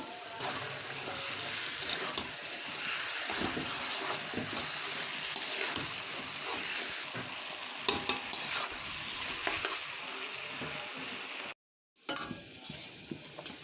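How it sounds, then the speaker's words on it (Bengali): Meat fries and is stirred into cooked-down spice paste, a constant close sizzle with repeated scraping and clattering from a spoon, briefly cut off near the end before resuming. "মশলা কষানো হয়ে গেছে, এবারে মাংসগুলো দিয়ে দেব।"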